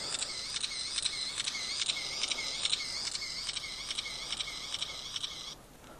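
A cheap thrift-store camera's shutter fires over and over in quick, evenly spaced clicks for about five seconds, close and crisp, then abruptly stops as if stuck; no one speaks.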